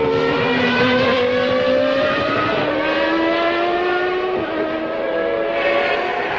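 Formula 1 race cars from the 1993 season, engines screaming at high, steady revs with pitch sweeping as cars pass, a continuous loud drone without talk.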